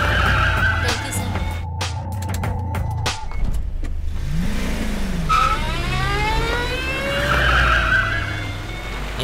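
A car skids and swerves as it is driven erratically, with tire squeal and engine noise sweeping up and down over a loud scene soundtrack.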